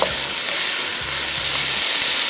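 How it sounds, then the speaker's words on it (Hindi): Prawns fry over high heat, a loud dense sizzle and hiss running continuously with faint low knocks of the pan underneath. "झींगा शामिल करने के बाद इसको भी तेज़ आंच पे थोड़ा सा किया फ्राई"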